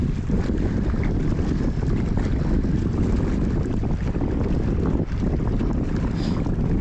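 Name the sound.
strong wind at the sea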